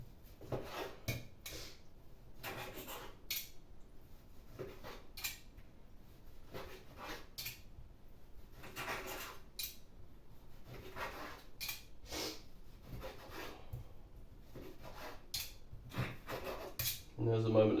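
A knife cuts steak on a plate, with faint scattered scrapes and clinks of cutlery against the dish coming in irregular short bursts over a quiet background.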